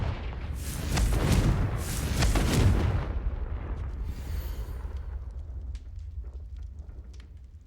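Confringo fire spell in Hogwarts Legacy erupting in a loud, rumbling fiery blast with two heavy bursts, then a crackling, hissing tail that slowly dies away, no talking over it.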